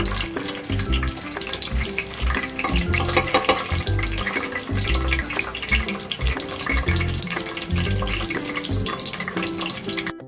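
Fennel, bay leaf, cinnamon and shahi jeera spices fry in hot oil for chicken biryani: a loud, steady sizzle runs throughout, with a few scraping stirs and occasional clinks, no talking.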